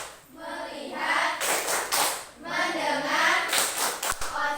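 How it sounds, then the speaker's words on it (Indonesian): A class performs a rhythmic concentration clapping game, with voices chanting in unison and sharp, close claps punctuating the chant in a steady pattern. "Tepuk konsentrasi."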